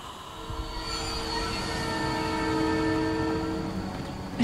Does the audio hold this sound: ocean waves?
no